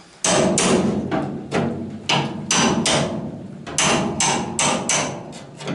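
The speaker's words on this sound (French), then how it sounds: "Et de donner le bon coup de marteau, évidemment." Repeated sharp hammer blows ring out on the metal bodywork of a Citroën Traction 11BJ, about a dozen strikes in uneven rhythm, close and loud with short metallic decays.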